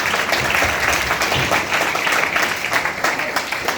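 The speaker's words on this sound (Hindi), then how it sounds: "अलका सोनकर जी के लिए जोरदार तालियां।" Loud audience applause after a spiritual talk in an ashram setting, a thick wash of many hands clapping steadily throughout, fairly close and filling the space with no talk.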